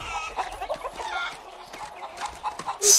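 A rooster in the video game Far Cry 6 clucks in quick, uneven bursts close by, with a sharp, louder squawk at the very end.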